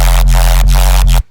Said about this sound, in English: I just distorted a saw wave like a lot and added some white noise and then distorted the white noise and the sub together so the noise gets all crunchy